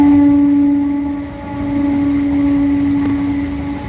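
A train rolling past very close to a house, loud and steady throughout with a sustained horn-like tone riding over the rumble of the wheels.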